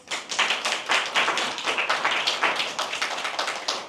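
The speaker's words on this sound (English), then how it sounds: "Let's see for a round of applause." A round of applause from a mentoring event audience celebrating a new qualifier, dense steady clapping from many hands held close and even for the whole stretch.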